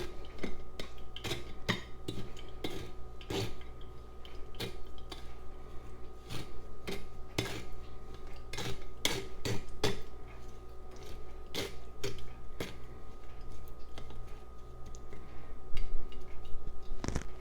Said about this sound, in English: The sugar I will just scoop right in.